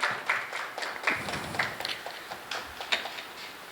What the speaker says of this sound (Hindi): जोरदार ताली से स्वागत करें।